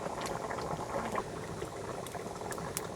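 Shing fish curry with taro and potato simmering on the heat, a steady dense bubbling and burbling of liquid that holds close and even throughout, with no voices.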